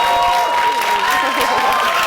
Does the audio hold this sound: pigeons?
no